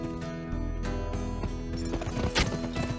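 A horse gallops in the Western video game Gun, with quick rhythmic hoofbeats over a busy game soundtrack and a brief louder burst near the end.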